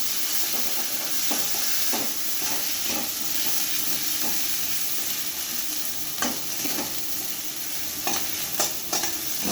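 Spices and turmeric powder fry in a pan with a steady, close sizzle, broken by occasional scrapes and stirring clatters. No voices break in.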